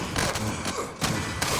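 A huge explosion in the video game Jupiter Hell, heard as a loud, rumbling, broadband roar with repeated thumping swells across a second and a half.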